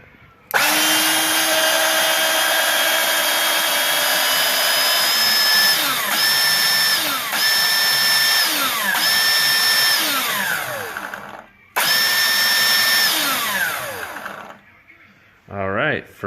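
A refurbished Craftsman C3 5 1/2 inch trim saw runs loud and steady with a high whine, spins down, then restarts and runs again before winding down, heard alone.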